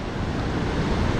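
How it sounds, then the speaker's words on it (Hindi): The Nandakini river rushes through mountains near Madhmaheshwar as a loud, continuous broadband roar of flowing water, steady and close, with no talking over it. "इस गधेरे का नाम जो ये नदी आ रही इधर से, ये है नंदाकिनी"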